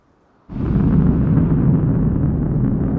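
A rocket launching in a space video game: a sudden loud roar bursts in after a brief quiet moment and holds as a sustained, dense rumble to the end.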